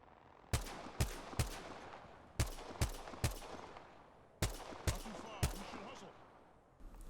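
A G7 Scout rifle fires in Apex Legends, with about ten sharp, evenly paced single shots in loose bursts, each cracking loudly then trailing off into faint background.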